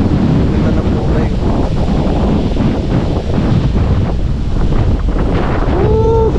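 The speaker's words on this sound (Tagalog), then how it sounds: "Grabe yung lakas pa rin ng hangin." Strong wind buffeting the microphone on a beach, with crashing surf behind it, a loud continuous roar throughout and a voice briefly audible underneath.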